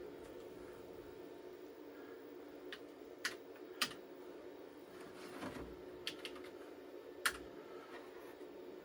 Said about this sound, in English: this keyboard is definitely foam and foil